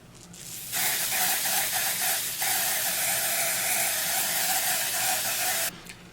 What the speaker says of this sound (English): medium dark brown ebon lace tint spray.